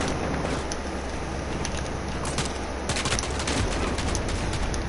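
Shotgun fire in a multiplayer shooter game on a small map, a dense wash of overlapping blasts and rattling gunfire at steady loudness, with sharper bursts near the end.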